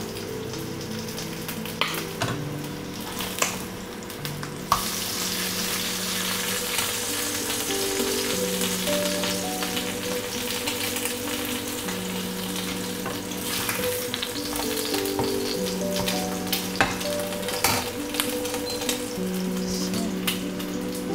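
Eggs and German sausage fry in a pan with a constant, close sizzle and spatter, punctuated by a few sharp clicks and taps, while faint background music plays; no talking.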